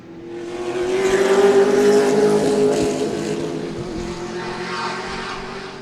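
Two Toyota GT race cars sweep past at Sebring, their engines building to a loud, close roar and then fading as they pull away, with other cars droning behind.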